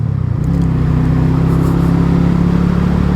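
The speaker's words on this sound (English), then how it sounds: "So the rev of the motor, that's what you love." A Harley-Davidson X440 motorcycle engine revs up and holds a steady, loud drone on a highway ride through the desert, close and continuous with no talking.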